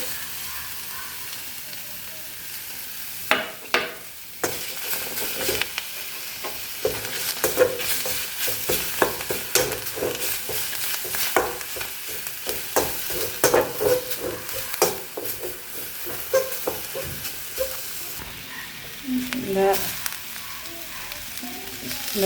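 Egg frying with agathi greens in a pan for a Jaffna-style keerai dish, a soft sizzle beneath repeated sharp spatula scrapes and taps against the pan, close by with no talk.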